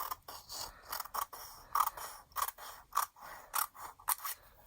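Paper being trimmed with scissors for a collage envelope, a series of close, crisp snipping cuts in an uneven rhythm, about a dozen distinct clicks and crunches with no talking.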